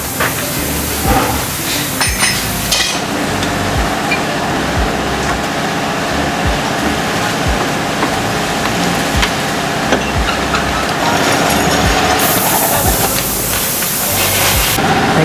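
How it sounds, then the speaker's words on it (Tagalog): Nonstop heavy rain hisses and sprays steadily while mag wheels are fitted to a VF3, with scattered knocks and clanks of work mixed into the loud wash of water. "Walang tigil na ulan, ha?"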